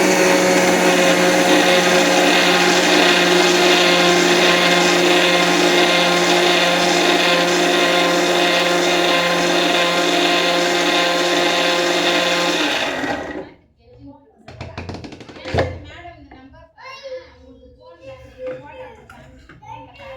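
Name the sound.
mixer grinder grinding almonds with milk for badam halwa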